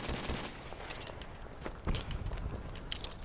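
Rapid bursts of M16 rifle fire in a Search and Destroy match of a first-person shooter, crackling in quick repeated volleys at moderate loudness over a busy game background.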